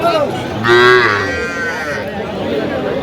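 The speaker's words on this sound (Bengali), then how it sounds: "বকনা বাচ্চা" Heifer calves at a busy cattle market, one giving a loud, close moo lasting about half a second, with other cattle lowing around it and a steady murmur of market noise behind.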